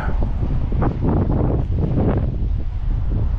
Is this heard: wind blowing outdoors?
yes